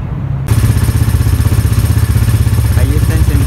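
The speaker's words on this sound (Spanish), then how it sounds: "Ahí está encendida la moto." An Italika WS150 scooter with a GY6 150cc engine starts up and settles into a loud, steady idle with a rapid, even putter and some mechanical clatter, close to the machine.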